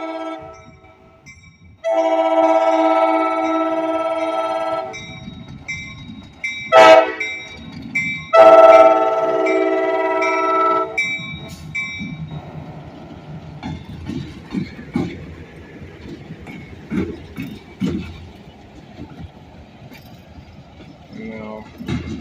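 Light engine moving through Arcade Junction beside a siding and main line, sounding several loud horn blasts in separate bursts, then rolling on with a lower mechanical rumble and clanking.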